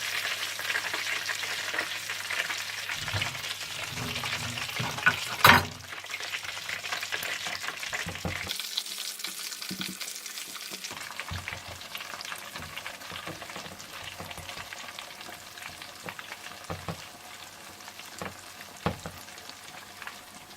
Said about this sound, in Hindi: मीडियम आंच पर फ्राई करने के बाद आप इन्हें निकाल लीजिए और बाकी सारे विंग्स भी इसी तरह से फ्राई कर लीजिए।